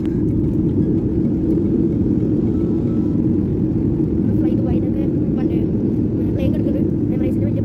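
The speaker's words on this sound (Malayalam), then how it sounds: "അപ്പോൾ ഞങ്ങൾ ഇപ്പോൾ ഫ്ലൈറ്റ് ലാൻഡ് ചെയ്യും" Steady, loud low rumble fills the cabin of a passenger airplane landing at Dubai airport on a flight from Kochi, continuous throughout, with faint voices in the background.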